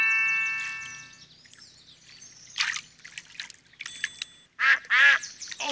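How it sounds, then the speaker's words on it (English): Cartoon ducks in a Peppa Pig pond-feeding video game quack in short bursts near the end, after chiming musical game tones and a trickle of water. "We are at the pond. And here come the ducks."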